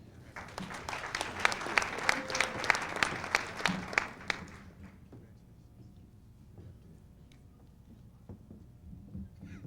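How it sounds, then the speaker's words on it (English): An audience at an art institute graduation ceremony claps hard for about four seconds, a close, crisp burst of many hands that stops abruptly and leaves faint room noise with scattered small sounds. "Let's give another round of applause to these three talented residential designers"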